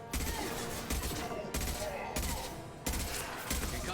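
Repeated bursts of gunfire from a weapon in the video game Mass Effect Legendary Edition, loud rapid volleys in a steady rhythm roughly every half second to second.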